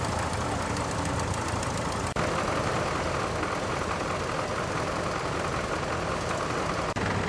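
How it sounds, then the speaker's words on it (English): A 1971 David Brown 990 Selectamatic tractor engine runs at a steady idle during a tractor parade, a continuous, close, rough and knocking diesel rumble with no voices. "A tidy tractor for the David Brown fans, a 1971 990 Select-O-Matic."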